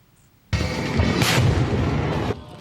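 A loud blast at a crowded outdoor rally in Chiayi city, where a plastic bag packed with black powder went off; a sudden broadband boom bursts in and holds as a dense roar for about two seconds before cutting back to quiet.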